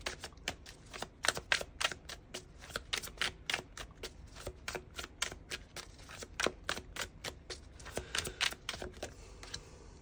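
Tarot cards being drawn and shuffled in a quiet room, a long run of close, crisp riffling snaps in quick irregular bursts with no talk.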